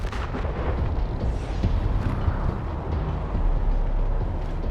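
Heavy, booming rifle fire from 7.62 ammunition in the video game Wasteland 3, a dense rumbling barrage of blasts and rolling low-end echo that continues loud and unbroken throughout.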